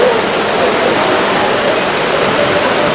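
Steady, loud rushing splash of a fountain in Piazza Navona, Rome, a continuous broadband wash of falling water heard close and alone.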